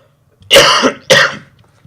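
Two harsh, throaty coughs in quick succession, close and loud, with a short gap between them and silence around them.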